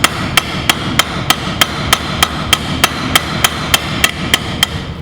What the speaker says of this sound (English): Put the round part of the rivet into the round part of the rivet set, get your ball peen hammer